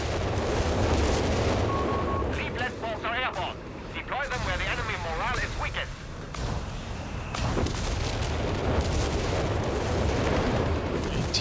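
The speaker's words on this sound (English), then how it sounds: "I got the dive bomb off." Dive bomb strike explosions thunder in a Company of Heroes 3 battle, with heavy rumbling blasts and crashes running continuously and loudly under steady talking throughout.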